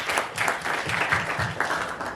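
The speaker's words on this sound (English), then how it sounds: "clap it up for Cameron" A comedy theater audience applauds a contestant, a lively close wash of many clapping hands that swells and dips throughout, with a murmur of voices beneath.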